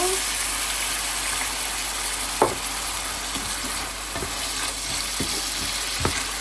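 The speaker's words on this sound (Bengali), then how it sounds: "আমি একটু পানি দিব।" Chicken legs with ginger-garlic paste and spices fry in a pan after a splash of water, giving off a loud, steady sizzle. A few sharp utensil clicks stand out over the continuous frying hiss.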